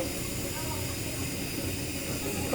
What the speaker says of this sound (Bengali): এখন আমি আলু আর শুটকি একসাথে কষিয়ে নেব